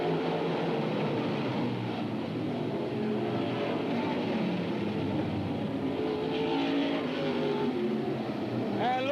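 Race cars at Bedford Speedway roar around the track in a dense, continuous engine drone, loud and sustained, with a brief higher-pitched whine near the end.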